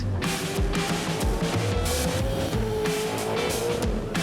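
A race car speeding around a challenging circuit, a loud, continuous engine roar with rough, pulsing texture and a faint steady whine throughout, with no talk.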